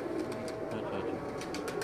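Faint, soft cooing from pigeons kept on a rooftop in Gujrat, a low continuous murmur with no talking.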